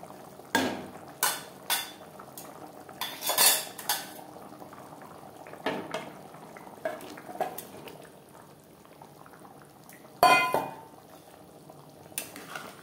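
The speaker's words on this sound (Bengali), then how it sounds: "আর দিয়ে দেব ভেজে রাখা ডিম।" Fried eggs go into an egg curry gravy simmering in a pot, heard as several sharp clinks and knocks of utensil against the pot rising above a quiet low bubbling, with a louder clatter near the end and no talking.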